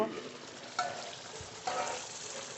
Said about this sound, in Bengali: আর ঢেকে দেবো না এবার নেড়ে নেড়ে জল সব শুকিয়ে নেব